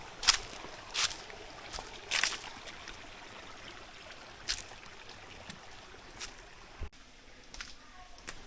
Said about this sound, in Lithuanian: Girdžiu vandenį kažkur.